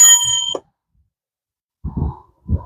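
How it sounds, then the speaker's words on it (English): A dropped metal wrench strikes the ground with a bright ringing clang that decays quickly, followed by a pause and then a couple of dull knocks or rattles, loud and close in a workshop. "That's the 5th time I've dropped that wrench."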